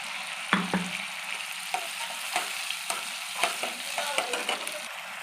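Ginger and green chili paste fries in hot oil with asafoetida for a vegetarian taro dish, sizzling steadily while a spoon stirs and scrapes the pan in repeated sharp knocks.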